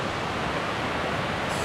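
Oneida Falls, a waterfall along a forest stream on a hiking trail, gives off a steady, close rushing roar of falling water with no pauses.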